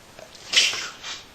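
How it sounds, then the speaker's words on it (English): A single sharp sneeze, short and close, with a small breathy follow-up. "Had that sneeze in there."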